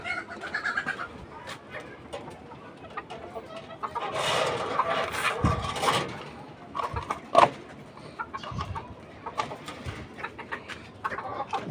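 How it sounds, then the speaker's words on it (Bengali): Domestic chickens cluck in short, scattered bursts alongside pigeons at feeding time in a backyard coop, with soft cooing and rustling between calls and no talking. "কবুতরকে আর মুরগিকে খাবার দিয়ে এখান থেকে চলে যাবো।"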